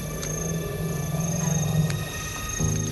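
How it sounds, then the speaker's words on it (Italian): An elephant's stomach rumbles while the big herbivore eats: a deep, continuous, low growling drone with faint wavering texture, steady for about three seconds over background hiss. "Lo stomaco di un elefante brontola mentre il grosso erbivoro mangia."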